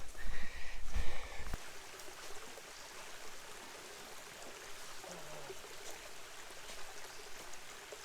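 Steady rushing water of a waterfall pouring into a pool, a constant broad hiss heard from nearby, with a few brief knocks at the start.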